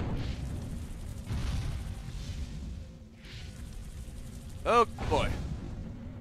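Weapon fire and booming explosions from a flying saucer in Destroy All Humans, with a muffled rumbling blast, a sharp warbling energy zap near the end, and a brief spoken exclamation.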